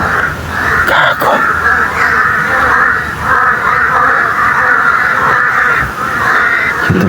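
Crows caw steadily and loudly in a continuous, overlapping chorus, as if many birds call at once nearby, with no clear pauses across the stretch.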